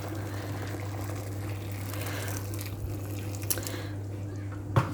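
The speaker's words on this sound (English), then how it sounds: "I'm going to just add my boiling water from my kettle." Boiling water from a kettle pours into a Pressure King Pro pressure cooker with beef stew, a faint, steady liquid trickle over a low hum, ending with a couple of soft clunks.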